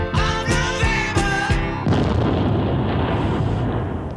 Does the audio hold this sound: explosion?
yes